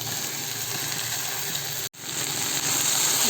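Okra frying in a pan with crushed garlic, a loud, steady close-up sizzle that holds throughout and drops out for a split second before resuming.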